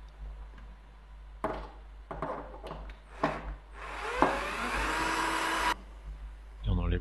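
Screw being driven into a Kinook plastic wedge block while building a console, a steady mid-loud whirring burst of about two seconds after several short clicks and knocks, with a brief vocal sound at the end.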